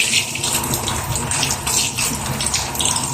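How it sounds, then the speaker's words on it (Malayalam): Water gushes from a leaking bathroom pipe in a loud, continuous, splashing rush that holds steady throughout. "ഈ പൈപ്പ് ലീക്കാട്ടോ"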